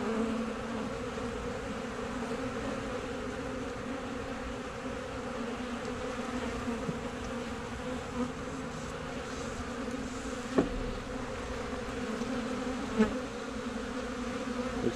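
A small honey bee swarm drones in a dense, continuous buzz close by, the steady hum broken only by a couple of faint knocks.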